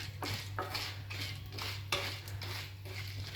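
Popcorn kernels being stirred in a hot pan: a steady run of scraping, rattling utensil strokes against the metal, close and moderately loud over a constant low stove hum, with no voices.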